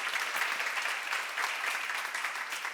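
A church congregation claps together through a sermon seminar, a dense continuous patter of many hands at moderate distance with no pauses and no voices heard.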